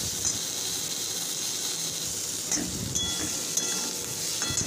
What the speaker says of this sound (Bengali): পটলটা সেম একইভাবে হলুদ লবণ দিয়ে ভালো মতন ভেজে নিই।